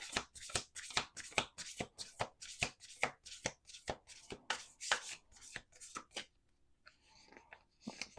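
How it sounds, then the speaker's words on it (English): Oracle cards are shuffled in a rapid, steady series of close, papery riffles, then a pause with faint handling noise and a soft final tap. "One more shuffle."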